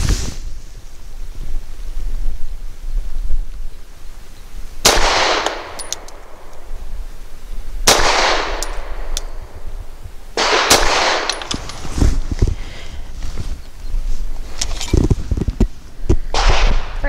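A Tisas Zigana F pistol fires Koenig 110 grain jacketed hollow point rounds outdoors, four sharp, loud shots spaced a few seconds apart, each with a short ringing tail, over faint background noise.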